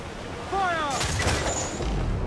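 Ship cannons in Assassin's Creed IV Black Flag fire in a rough booming volley, broadband blasts over ocean and ship ambience, with a shouted voice just before.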